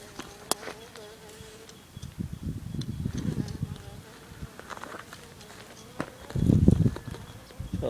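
Japanese bees buzz around sugar water outdoors in several close passes that rise and fade, the loudest near the end, with only a faint background hum between them.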